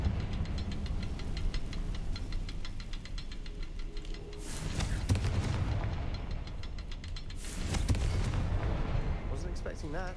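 A Confringo blast spell in Hogwarts Legacy: two sharp, bright explosive bursts ring out over a rumbling game background, each followed by a crackling decay.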